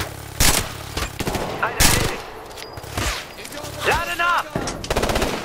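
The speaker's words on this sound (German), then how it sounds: "Er bedient ein MG!" Machine gun and rifle fire from the Ghost Recon Future Soldier video game crack out in sharp bursts and single shots throughout, with a brief shouted voice among the battle noise.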